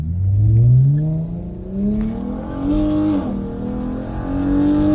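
A Dodge Challenger accelerates hard with a Mustang following, its engine revving up through several rising gear pulls with brief drops between shifts, loud and close, no talking.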